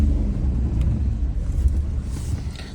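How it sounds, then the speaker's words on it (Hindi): A car idles and rumbles at low pitch as it eases into a parking spot, the engine drone steady and close with a faint click near the end. "गाड़ी पार्क करते हैं पहले।"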